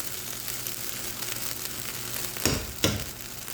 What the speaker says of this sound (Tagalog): konti na lang ito maluluto na yung ating fried rice